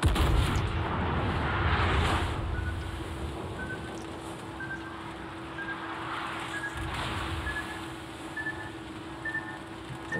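Battleship main guns firing in World of Warships, HMS Collingwood, a heavy boom at the start followed by quieter distant blasts and rumble under a steady game background hum.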